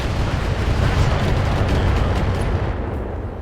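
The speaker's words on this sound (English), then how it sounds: "he's gonna take an LRM barrage now" An LRM missile barrage strikes in the BattleTech video game, a dense, loud, continuous roar of overlapping explosions with deep rumbling weight that holds steady for several seconds before easing off slightly at the end.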